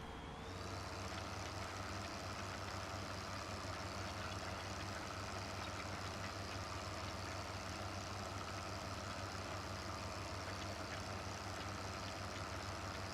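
A tractor pulling a cultivator in the Farm Sim 15 video game gives a steady, droning engine hum that stays constant and unbroken throughout, with no talking over it.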